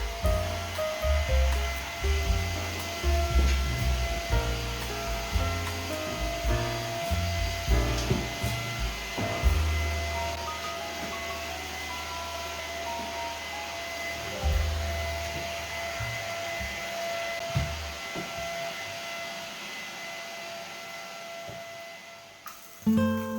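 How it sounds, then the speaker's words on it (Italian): Steady whining drone of a vacuum cleaner run over the tops of bedroom wardrobes, with bumps and shifts in pitch as the nozzle moves, continuous and fairly close with no talk. "prima con l'aspirapolvere."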